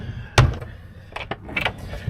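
A loaded caravan drawer slides and knocks, opening with one sharp clunk followed by several lighter rattles and bumps, close by and with no talking.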